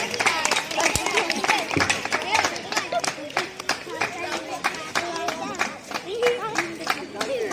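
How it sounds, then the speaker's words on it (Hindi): A village audience in Hatwal claps at a felicitation ceremony, with many quick, uneven hand claps of varying loudness close by and voices talking over them. "ताली बजा के कृपया सभी स्वागत करें"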